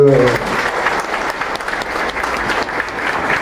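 An audience at a political party induction event applauds to welcome a party worker, dense sustained clapping from a crowd, loud and close, with a brief voice at the very start.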